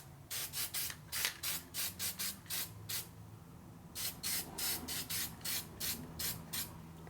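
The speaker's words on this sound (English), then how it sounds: "I just take this, I spray them on the gasket." Aluminum sealant paint hisses from a spray can onto an engine gasket during a 2001 Indian Scout 88ci big-bore S&S motor rebuild, in two runs of short rhythmic bursts with a brief pause between them.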